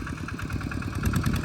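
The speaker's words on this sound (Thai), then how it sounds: "เอารถไถ2 คันมาไถ" Tractor engine, one of two machines plowing a rice field, chugs steadily with a rough, rhythmic low throb and light clatter, running continuously at moderate loudness without speech.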